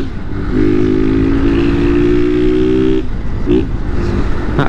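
A 160 motorcycle with a loud aftermarket exhaust roars close by, a rough steady engine note held for several seconds with a brief rev blip near the end.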